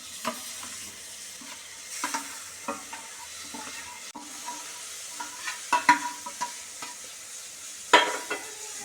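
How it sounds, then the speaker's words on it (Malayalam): Ground coconut stirred into a Kerala chickpea curry base with chili powder and garam masala in a pan, a low simmering sizzle punctuated by irregular scrapes and knocks of a spoon, one louder clack near the end. "നന്നായിട്ട് ഇളക്കാം"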